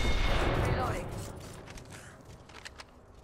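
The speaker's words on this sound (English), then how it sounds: "They're shooting at me." Gunfire in the online shooter Apex Legends: a burst of shots up front, fading into scattered sounds and faint footsteps, under a busy game mix.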